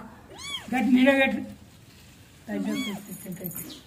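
A small cat meows twice, close and clear, with about two seconds between the calls, while a person talks nearby.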